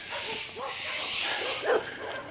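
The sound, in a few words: small dogs barking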